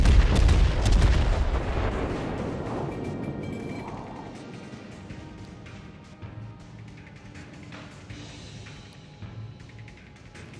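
Heavy naval main guns of the battleship Yamato firing in World of Warships: a loud opening boom that decays into rumbling low-end echoes, with mechanical clanks and softer repeated thuds fading through the rest.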